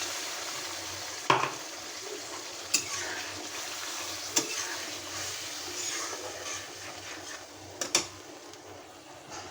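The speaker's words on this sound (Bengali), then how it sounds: "এই মশলাটা আমি ভালো করে কষিয়ে নেব" Spice masala paste sautéing in a pan for a papaya and chicken-leg curry, a steady close sizzle broken by a few sharp scraping stirs of the spoon against the pan.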